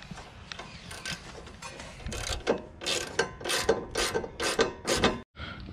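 Rapid clicking bursts of a ratchet wrench loosening the sway bar link nut on a Honda CR-V during a lower control arm job, close and fairly soft, repeated strokes in quick succession before a sudden stop.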